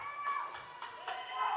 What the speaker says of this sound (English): The snack bar parents cheering on the loudest.